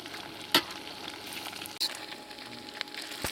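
Pork pieces frying in a pan until golden brown for a stir fry with baby bok choy: a quiet, steady sizzle with a couple of sharp utensil clicks.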